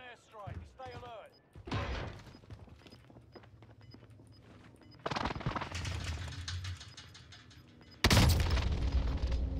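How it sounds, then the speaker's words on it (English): Precision airstrike explosions and gunfire in the Warzone video game on Rebirth Island, heavy booming bursts arriving in three loud waves with crackling debris between them, mixed with game voice lines. "Enemy precision airstrike."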